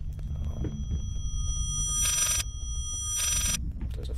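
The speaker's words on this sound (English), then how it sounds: "There's a phone ringing, but it's, sounds like it's in reverse." In the horror game Layers of Fear, a telephone rings backwards: two bright, buzzy bursts about a second apart over a low, murky ambient drone, with no speech.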